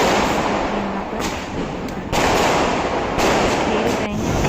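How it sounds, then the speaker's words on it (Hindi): Diwali fireworks and firecrackers, including anar fountains, go off in a garden, a loud continuous hissing crackle with sharper bursts and level jumps every second or so, and voices faintly mixed in. "ये उसी समय के फुटेज में थे जब हम लोग गार्डन में आतिशबाजी कर रहे थे"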